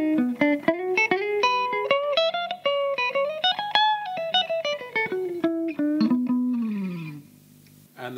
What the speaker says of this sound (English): In the middle pickup, as you'd expect, you get a slightly sort of smoother sound.